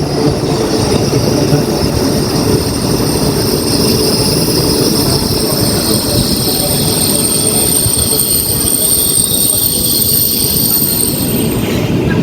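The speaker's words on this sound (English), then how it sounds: "So our train has arrived" A loud, continuous rumble of an Indonesian bullet train arriving at a platform close by, with high, sustained wheel squeal running throughout.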